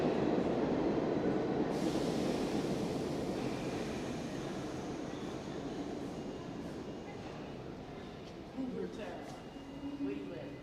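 A New York City subway train at the 59th Street–Columbus Circle station on the A, C, B, D line rumbles steadily and loudly, fading slowly, with faint voices and a short squeal near the end.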